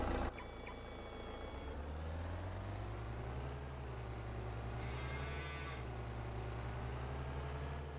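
Cattle low and moo inside a Farming Simulator 25 barn, steady drawn-out bellowing calls over a constant low engine-like hum, fairly close and continuous throughout.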